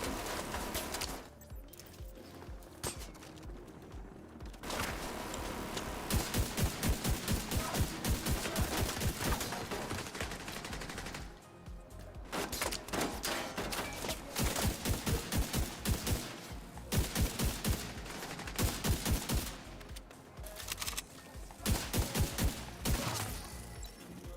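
SVD rifle fire in The Division 2 game cracks out in long, rapid runs of shots, loud and close, with brief gaps between bursts.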